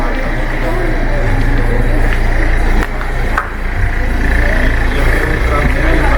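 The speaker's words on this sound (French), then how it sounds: "Il y a aussi des voitures." Cars rolling along a narrow village street in Algar de Palancia, a continuous low engine rumble that swells as vehicles pass close by, with a brief dip midway.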